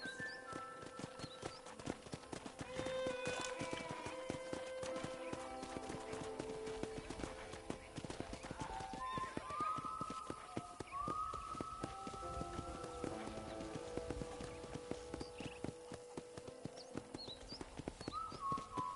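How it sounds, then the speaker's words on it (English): Horse hooves clip-clop steadily in Red Dead Redemption as a horse is ridden on a ranch tour, a continuous rhythmic patter at moderate level with occasional brief whistling tones and no talk over it. "I picked out a fine horse for you."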